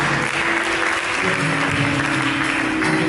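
A church congregation claps together in a steady, continuous round of applause, with a faint tonal hum from the room sound underneath.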